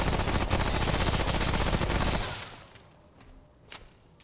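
Loud, dense burst of automatic gunfire from the video game Remnant, rapid shots for about two seconds before cutting off, leaving quieter scattered sounds and one brief late crack.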